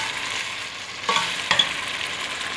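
Chicken pieces sizzle in a hot pan for chicken curry, with a steady frying hiss and a couple of sharp scraping stirs near the middle, close and fairly loud, no talking.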